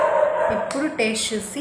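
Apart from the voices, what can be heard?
dog barking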